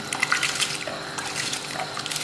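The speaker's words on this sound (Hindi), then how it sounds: "इसमें चावल डाल रहे हैं।" Soaked sela rice tumbles into a pot of hot water while cooking biryani, making a steady wet splashing and pattering with small bursts, moderately close and with no voices.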